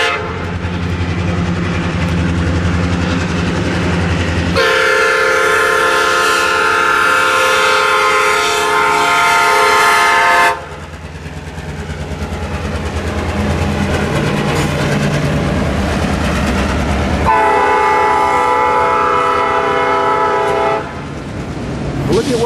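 A freight train hauling automobile transport cars rumbles loudly past at close range, its horn sounding in long sustained blasts over the constant clatter of rail cars.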